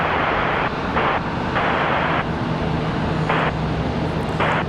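An airliner taking off at Charlotte Douglas International Airport, a broad steady engine roar with a low hum underneath and surging bands of higher noise that come and go across the few seconds.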